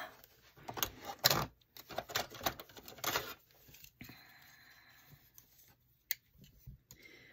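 Scissors cut through card paper in close, quiet bursts of snipping and rustling, broken by pauses and a few sharp clicks.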